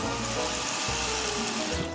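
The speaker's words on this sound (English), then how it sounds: "So we'll just add a little bit of water." Water poured into a cooking pot for blended nacho topping, a continuous splashing, gurgling stream heard close and steady for a couple of seconds with no voices.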